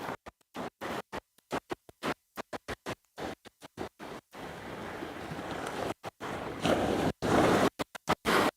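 A fishing reel is wound in slowly on a surf beach at night, its stop-start scratchy clicking close to the microphone, then wind noise and crashing waves take over.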